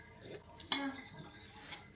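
Metal utensils clinking against a bowl while food is tossed with a little olive oil, with soft scraping and one sharper clack partway through.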